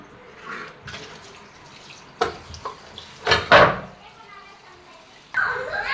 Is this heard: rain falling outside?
no